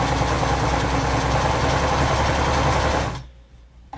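A sewing machine stitches a DIY guitar strap at high speed, a loud, steady mechanical whirr that runs continuously for about three seconds before stopping abruptly, leaving near silence.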